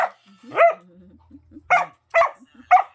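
A dog barks four or five times nearby, loud sharp yaps spaced apart with quiet gaps between them.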